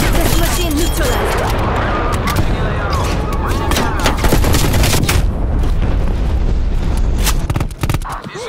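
Sentry turret firing in a Call of Duty match, loud sustained rapid gunfire mixed with booms and explosions in a dense wall of battle noise, with voices talking through it.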